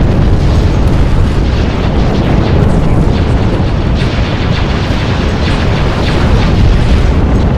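A starship explodes in the Star Wars Ascendancy video game, a loud, continuous booming roar that fills the whole stretch without letting up.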